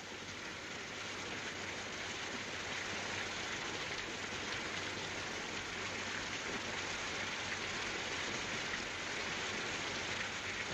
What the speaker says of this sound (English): still the rain kept coming down